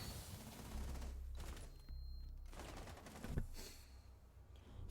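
Gunfire in a competitive shooter video game match, several quiet bursts of rapid shots separated by short gaps, fairly faint overall.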